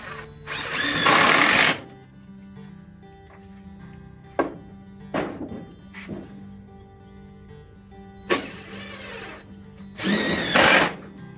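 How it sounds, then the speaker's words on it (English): A power drill drives screws into a wooden L-shaped raised garden bed, with several loud whirring bursts separated by quieter pauses and short clicks, with no talking. "Last two screws going in for the L-shaped bed."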